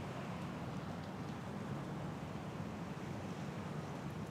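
Wind and ocean waves for relaxation, a steady broadband rush of surf and wind noise, constant and fairly soft throughout with no voices.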